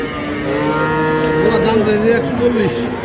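A Friesian cross heifer calf moos with a long, drawn-out low call lasting several seconds, loud and close, with no talking over it, at a cattle market.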